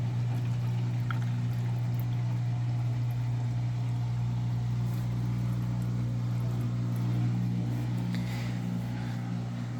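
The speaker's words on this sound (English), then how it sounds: "clear water rinse again." A GE washing machine running a clear water rinse cycle produces a steady low hum and churning water noise throughout, continuous and moderately loud, with no talking.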